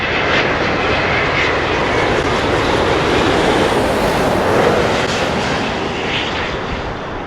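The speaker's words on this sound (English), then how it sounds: "We have a Virgin Atlantic. It's coming in from San Francisco." A Virgin Atlantic Boeing 787 jet arriving from San Francisco at London Heathrow, its engines a loud, steady broadband roar that holds throughout and eases slightly near the end, with no voices.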